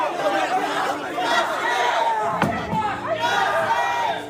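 Protesters at a New Orleans City Council meeting, a loud, dense crowd of overlapping voices and shouting with a sharp bang midway through, the chatter continuing throughout.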